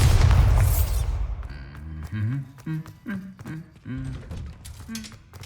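In Hogwarts Legacy, a Bombarda spell bursts in a loud, deep boom at the start that decays over about a second, followed by a voice talking.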